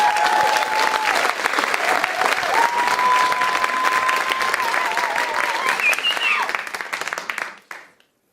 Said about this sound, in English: Round of applause for Tracy.